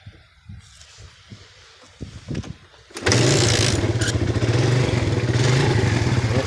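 A Suzuki Satria FU motorcycle engine is started after a few light clicks and clatters, then idles loud and close with a steady, busy mechanical rattle.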